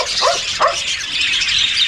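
Pet parakeets in an aviary chirping, two short bright calls early on over a steady background of chatter from many birds.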